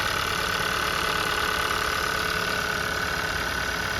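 A car engine idles with its cam position sensors unplugged, giving a steady, even rumble with a faint knock and continuous mechanical drone close by and no speech.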